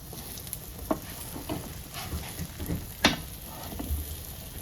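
Fish fillets frying in oil with a crisp coating, a steady soft sizzle broken by a few clinking taps and stirring scrapes as pieces are turned in the pan.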